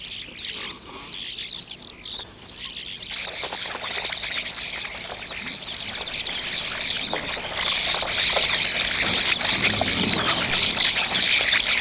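A flock of starlings calls noisily and continuously, a dense chatter of chirps, whistles and squeaks that builds louder over time, close by among livestock.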